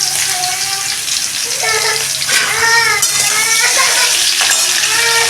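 Vegetables frying in oil in a wok, with a steady, loud sizzle running throughout and bright tonal squeaks or chirps from the pan and stirring on top.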